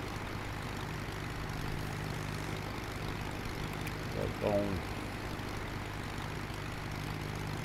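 A biplane engine drones steadily in flight as a low, constant hum through the whole stretch, with a brief spoken word near the middle.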